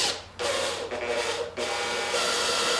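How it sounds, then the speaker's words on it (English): A drill bores small holes through a wooden former during a PT11 boat build, making a close, rasping whir in several short runs separated by brief pauses. "we're going to drill a few small holes through the center of the former in the 4 marks made"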